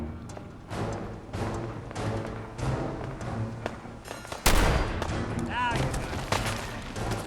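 Gunfire in the video game Fallout 4: repeated booming shots and thuds, with one heavy blast partway through, set among game noise.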